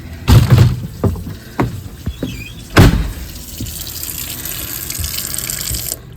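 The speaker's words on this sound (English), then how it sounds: "let's go ahead and shut that water off in here." Water running from a tap into a sink inside an RV fitted with a tankless on-demand water heater: a steady hiss of flow, with a few knocks and squeaks from the fittings near the start, stopping abruptly at the end.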